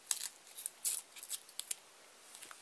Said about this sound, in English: Peel a little bit of tape. Just a little piece.